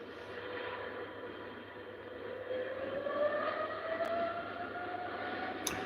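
A Kuwait Airways Boeing 777 at Heathrow, its jet engines giving a steady distant roar with a slowly rising whine, heard from afar without talk.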